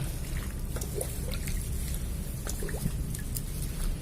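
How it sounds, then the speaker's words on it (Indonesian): Water pours and trickles steadily over compost, with scattered splashes and drips over a continuous wash of sound. "Siapkan ya air yang tadi, yang E4, kita siram aja sampai dia merata"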